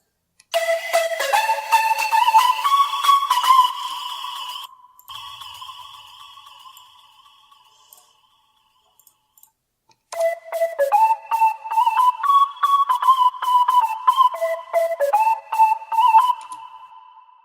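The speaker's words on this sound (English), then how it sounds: "we are using a sine wave here, and we are using the AC hum 1 noise" A Serum synth patch built from a sine wave layered with AC hum noise plays a bright, whistle-like melodic line of sustained tones, fading out, then after a short silence returning with quicker, pulsing notes.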